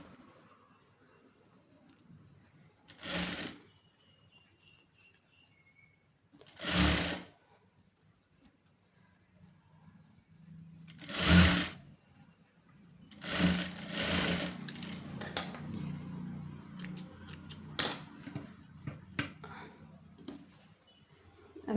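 A sewing machine stitches around a folded pant hem in several separate bursts of fast, buzzing mechanical whirring, each lasting about a second, with quiet handling and rustling of fabric between runs and a faint voice.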